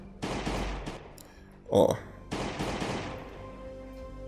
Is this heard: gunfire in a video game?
yes